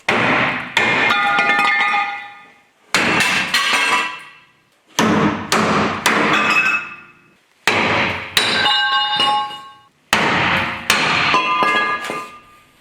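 Repeated hammering on drilled rivets in a steel vehicle chassis during an RV car-transporter conversion: five loud bursts of rapid metallic blows, each a second or two long and separated by brief pauses, ringing with a clanging, glassy edge.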